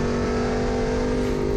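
A V8 race car in a Gridlife GLTC race at Heartland Motorsports Park powers out of a corner, its engine a loud, steady, close roar with a strong droning tone that holds throughout.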